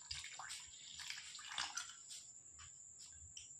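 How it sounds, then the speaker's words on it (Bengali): Water pours and splashes in short uneven bursts into milk powder dough for square parathas, a faint close trickle without talk. "এবার দিয়ে দেবো জল।"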